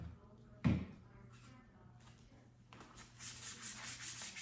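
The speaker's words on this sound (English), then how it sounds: "I'm gonna finish up all the sanding" Sandpaper rubs over a car headlight lens during a multi-grit restoration, heard as a bump followed by soft scraping strokes that grow into louder, rhythmic rasping toward the end.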